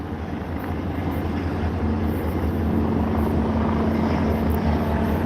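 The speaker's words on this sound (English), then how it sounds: "The helicopter seemed like it was on for a while." A helicopter flies overhead on a city walk in Philadelphia, Pennsylvania, a loud, steady rotor drone that holds and swells slightly over several seconds with no talk.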